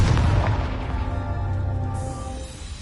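Confringo fire spell explosion in Hogwarts Legacy: a deep, booming blast opens loud and close, then rumbles and fades away over a few seconds.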